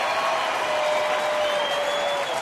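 A baseball stadium crowd of about 38,000 cheers and applauds in a steady, dense roar during a tied seventh inning of a Cleveland at Detroit game, with a few whistles rising above it.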